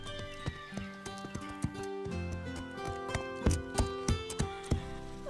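Horse hooves clip-clop in a cartoon, a run of regular hoof taps close by over light background music.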